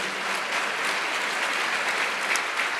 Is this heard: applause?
yes